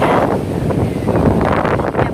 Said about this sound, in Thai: ลมแรง ฝนลงด้วย